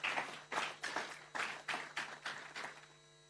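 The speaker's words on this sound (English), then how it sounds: "please give a round of applause to Ms. Shaya, the only Maldivian sitarist" Sparse, evenly spaced handclaps follow a sitar performance at an awards ceremony, about nine distinct claps in a steady rhythm, quiet and fading slightly at the end, with no voices.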